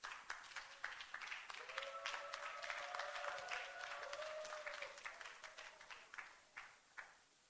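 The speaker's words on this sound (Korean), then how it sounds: "우리 하나님 앞에 영광의 박수를 한번 돌려드립니다" Applause during a church service for the opening of a vision center, a steady wash of many hands clapping that swells and then thins into scattered claps, with faint sustained tones underneath.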